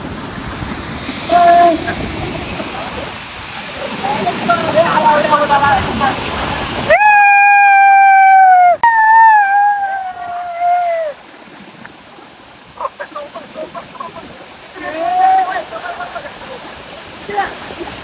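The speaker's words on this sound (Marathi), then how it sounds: "आता आम्ही आलेलो धबधबा पाहण्यासाठी" Waterfall on the Kalsubai trek in Maharashtra, a steady broad rush of falling water heard nearby, interrupted midway by a loud sustained whistle-like tone, with bird calls and faint voices over the roar.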